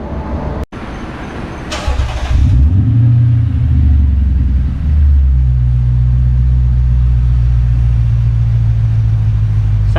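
Lexus IS F with mufflers removed, starting up with a loud deep rumble, a quick rev, then settling into a heavy, steady low idle close by.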